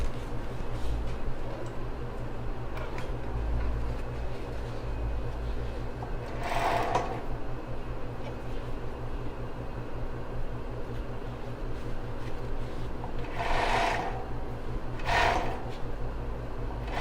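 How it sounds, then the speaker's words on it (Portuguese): A sewing machine hums continuously while stitching elastic lace along the edge of a bra, a steady close mechanical drone with a few brief scraping rustles of fabric handling. "Agora eu vou passar a costura aqui desse outro lado."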